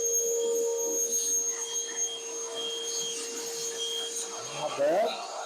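A Milwaukee toolbox wet and dry vacuum runs steadily with a high whining tone and airy roar, close and constant, with a brief shift near the end as a crevice tool picks up debris.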